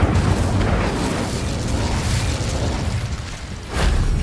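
An Incendio fire spell cast in Hogwarts Legacy erupts as a dense, roaring burst of flame, sustained and rumbling for several seconds, then swells again with a fresh whoosh near the end.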